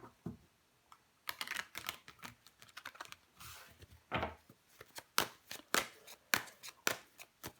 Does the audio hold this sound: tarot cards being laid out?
yes